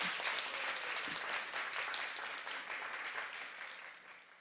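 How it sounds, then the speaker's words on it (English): Audience applause at an ISKCON temple for Mother Nitya Kishore, a steady dense wash of many hands clapping that holds throughout and tapers slightly toward the end. "another round of applause for Mother Nitya Kishore"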